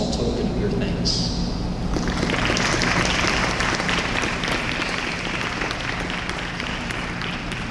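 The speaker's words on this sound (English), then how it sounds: "Commissionees, please give your family and friends a round of applause as a small token of your thanks." Audience applause at a university commissioning ceremony, steady and sustained across the room for several seconds, with some background crowd noise.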